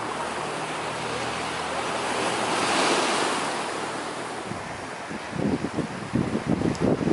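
Ocean waves at Lover's Point on the Central Coast of California roll in as a steady surf wash, swelling and fading, with some wind buffeting the microphone toward the end; no one speaks.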